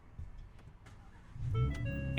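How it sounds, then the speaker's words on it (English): A Ford F-150 Raptor pickup engine starting: a quiet stretch, then about halfway through a low rumble swells up close, with steady chime-like tones ringing over it. "the car's gonna start up even with your key fob dead"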